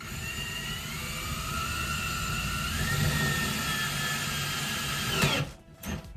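A power drill whines steadily as it drives self-screwing anchors into a bathroom wall, close and continuous with a rising pitch, then stops abruptly near the end.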